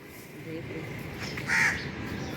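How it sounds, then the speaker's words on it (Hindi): Two crows caw outdoors at a home on a cold morning, with a couple of moderate calls standing out over steady background noise and voices talking nearby. "दो कौवे"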